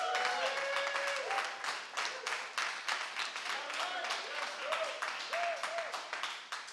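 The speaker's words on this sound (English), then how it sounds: "I asked for a double helping of applause for Pastor Eddie Williams" Meeting attendees applauding a pastor in his home, clapping mixed with voices and some cheering tones, fairly close and sustained.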